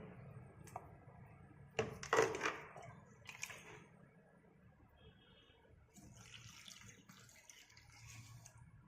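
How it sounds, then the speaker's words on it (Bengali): Water is poured onto potted plants on a home balcony. It comes as faint, close splashing and trickling in a few short bursts, with quiet gaps between them and no talking. "গাছগুলো জল দিয়ে দিই"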